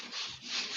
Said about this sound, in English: when you're sanding these joints, feel free to use whatever the most aggressive grit of sandpaper you have